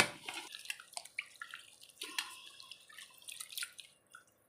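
Prawns dropped into a container of water before cleaning: a series of quiet, irregular plops and drips, small splashes scattered close by over a few seconds, with no voices.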